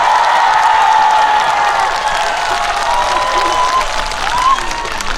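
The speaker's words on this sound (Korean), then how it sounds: "큰 박수 한번 주시겠어요?" Loud, sustained applause from a large crowd at a festival opening-ceremony concert, steady clapping with some cheering mixed in, filling the whole stretch.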